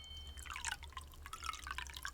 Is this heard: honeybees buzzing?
no